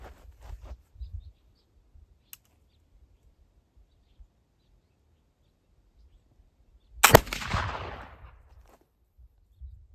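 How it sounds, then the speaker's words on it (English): A single black powder rifle shot fired with remilled Goex powder at a shooting range: one sharp, loud report followed by a short rolling echo, after a stretch of faint outdoor ambience with a few small clicks. "All right, shot number 4 with the remilled Goex."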